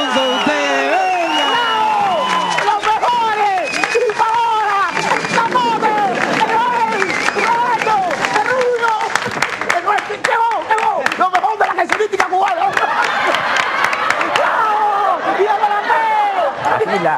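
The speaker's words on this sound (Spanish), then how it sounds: "¡Aplausos! ¡El aplauso!" An audience at a vedette cabaret show claps and cheers loudly for a long stretch, dense overlapping applause mixed with shouts, whistles and crowd babble, with voices talking and calling out throughout.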